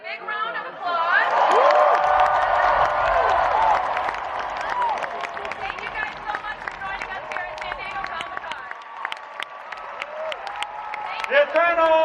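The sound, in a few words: audience applause at Comic-Con Hall H panel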